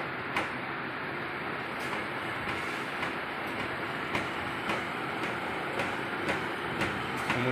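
A treadmill DC motor driven through a low-cost speed controller runs continuously with a steady hum, overlaid by regular light ticking or clicking pulses at an even rhythm, close and fairly quiet with no speech.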